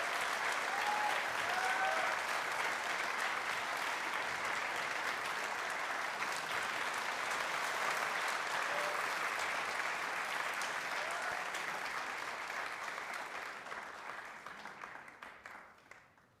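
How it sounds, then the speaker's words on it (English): An audience at an event with the Indian community in Vienna bursts into sustained applause, a dense wash of clapping that holds steady for many seconds before slowly thinning and fading out. "Ladies and gentlemen, a big round of applause for our guest of honor."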